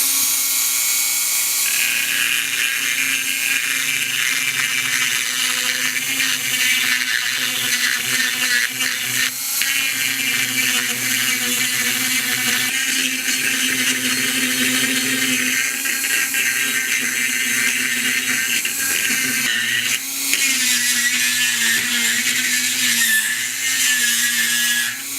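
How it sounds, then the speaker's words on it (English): A Dremel rotary tool fitted with a carbide burr grinds out a turbo wastegate hole, a loud, steady high-pitched whine running continuously for the whole stretch with small pitch wobbles as the burr bites into the metal. "So I have a carbide burr in this Dremel."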